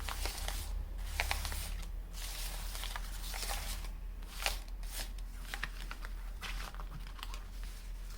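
Tarot cards are shuffled during a reading with soft, repeated riffling and slapping bursts, quiet and close, over several seconds.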